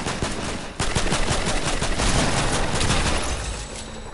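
Loud, sustained automatic gunfire in a video game rattles continuously, a dense barrage of rapid shots with only a brief dip near the start.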